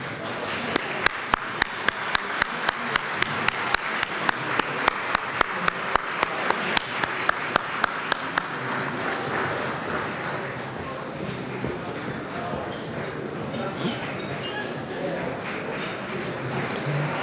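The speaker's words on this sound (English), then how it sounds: "please stand, give them another round of applause" Guests at a luncheon honoring the annual top 10 African American male honorees applaud for the class of 2019, with a sustained roar of clapping and a few sharp, regular close claps in the first half.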